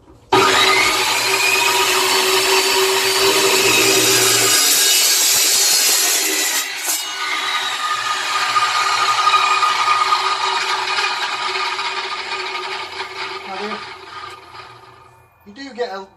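An Evolution Rage 2 saw cuts through 40mm steel box section with 2.5mm walls, a loud sustained whining grind that runs almost the whole clip before tapering off as the cut finishes.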